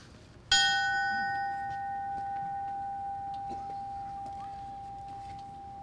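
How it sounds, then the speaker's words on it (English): A memorial bell rung at a fallen firefighter memorial ceremony in Edmonton, Alberta: one clear strike followed by a long, pure, slowly fading ring that sustains for several seconds over quiet room ambience. "Ringing the bell will be the Memorial Society"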